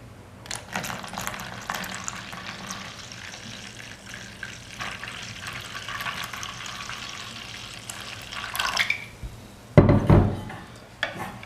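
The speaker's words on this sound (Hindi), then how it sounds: "अब मैं इसमें करूँगा पानी शामिल।" About a litre of water pours and splashes into a kadhi mixture in a continuous stream, followed by a brief louder slosh near the end.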